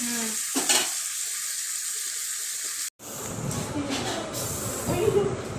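Ingredients with coriander sauté in a pan at a home lunch among neighbors. A steady close sizzle cuts off abruptly and resumes louder and busier, with a voice briefly heard at the start.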